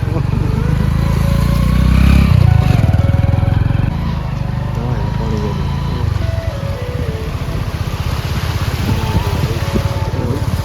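A motorcycle riding along a flooded road in Garhshankar, Punjab: its engine drones loudly and steadily through the water, easing slightly in level midway, with splashing wash around it.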